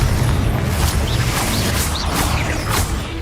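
A Confringo fire spell in Hogwarts Legacy bursts amid a dense, continuous wash of combat noise, with booming impacts and whooshing magic layered throughout and no clear voices.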